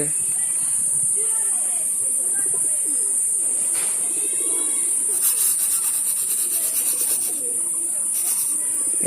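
Pigeons coo softly and repeatedly close by, mixed with a voice talking, wing flutters and a constant high-pitched whine.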